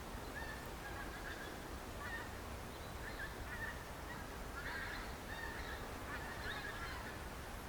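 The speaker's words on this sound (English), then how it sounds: "you might be able to hear the geese honking now" Distant geese honking in scattered, repeated calls over a steady hiss of outdoor ambience, faint and far off.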